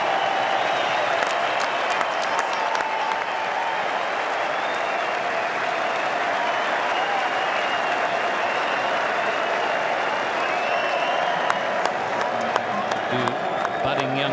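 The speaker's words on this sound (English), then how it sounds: "The budding young keepers there applauding with their gloves on in the crowd." A capacity cricket crowd in Perth applauds and cheers as a batsman reaches his fifty, dense continuous clapping with scattered whistles and shouts, a commentator's voice running over it.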